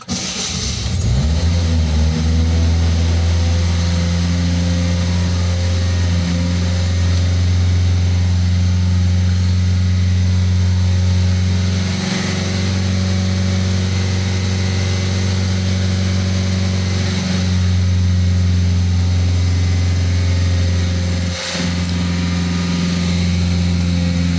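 A Citroen C3 Picasso engine after a fuel filter change, held at a steady raised speed of about 2,000 rpm, giving a constant close drone with no speech over it.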